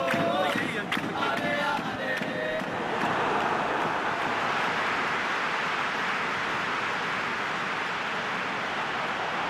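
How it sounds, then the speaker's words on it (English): A football stadium crowd cheers and roars as a broad, continuous wash of noise, swelling early and then holding steady at a distance, while a commentator speaks over it. "The crowd appreciates good football all round there."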